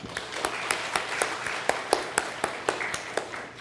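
Church congregation applauds in encouragement of its youth, steady moderately loud clapping from many people in a hall, with a few sharper claps standing out in a loose rhythm throughout.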